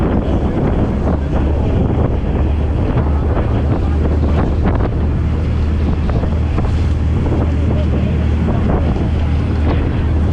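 Steady rumble of a boat under way in the Scottish West Highlands, with strong wind buffeting the microphone and rushing water, continuous and loud throughout.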